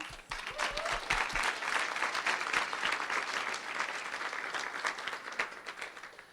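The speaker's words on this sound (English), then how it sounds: "they deserve a nice big hand of applause" An audience at a classroom physical literacy talk applauds the presenters, sustained steady clapping that fills the room and tapers off slightly at the end.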